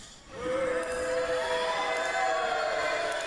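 Wrestling crowd at an NWA Appalachia show in Matewan, West Virginia, reacting against King Shane Williams: a steady, loud wash of crowd noise with scattered shouts and whistles throughout.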